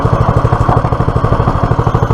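The small petrol engine of a Clarke PW50 water pump runs steadily close by with a loud, even, throbbing chug, without clear revving.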